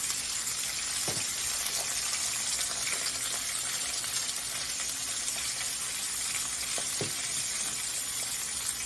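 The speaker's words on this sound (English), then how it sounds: "And obviously we're going to fry them in batches" Pork chops frying in a pan as a batch, a steady bright sizzle of hot oil that holds constant throughout, with a couple of soft knocks of the pan, close and unaccompanied by talk.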